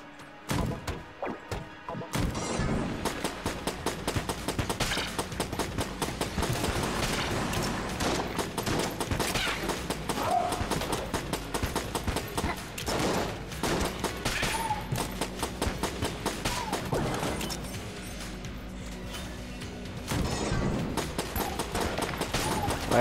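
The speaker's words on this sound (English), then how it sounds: "A t-shirt cannon" Continuous rapid firing and impacts in the Enter the Gungeon video game, with a t-shirt cannon among the weapons, as a dense, loud barrage of thuds and bursts that barely pauses over twenty seconds.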